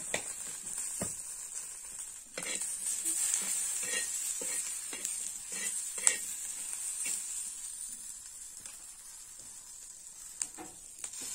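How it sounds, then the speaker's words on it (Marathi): Green chillies and garlic sautéing in a pan, cooked on a wood-fired clay stove in a village kitchen, a continuous sizzle broken by spoon stirs and scraping taps, moderately close with no talking. "हे बघा छानपैकी इथं परतलं गेलंय आपलं मिरची आणि लसूण."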